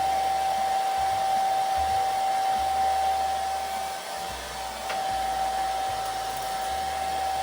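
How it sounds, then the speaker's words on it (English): A hair dryer on its low setting blows continuously, a steady airy whoosh with a thin high whine, close and unbroken apart from a brief dip midway. "so I've got my hairdryer here."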